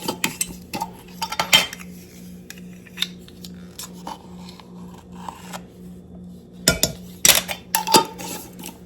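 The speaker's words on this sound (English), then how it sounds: "Then we are going to put in 1 teaspoon of baking powder." A metal teaspoon scrapes and clinks against a glass jar while baking powder is spooned into layered cookie mix, with sharp close taps, jostling rattles and quiet pauses between.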